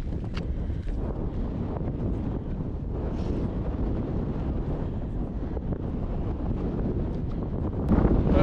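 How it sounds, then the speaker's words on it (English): Strong wind buffets the microphone in a steady roar on a Scottish mountain ridge near Stuchd an Lochain, rumbling and gusting throughout with no voices, growing slightly louder near the end. "It's very windy at the top of this ridge"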